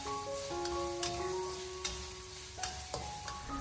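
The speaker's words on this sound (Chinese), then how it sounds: "把剁好的蒜末还有小米辣放进来，然后再继续的开中小火给它不停的翻炒" Minced garlic and small hot chili peppers sizzle and hiss as they are stir-fried nonstop in a wok over medium-low heat for a home-style broccoli dish, with a steady frying crackle, occasional scraping stirs and soft tonal music underneath.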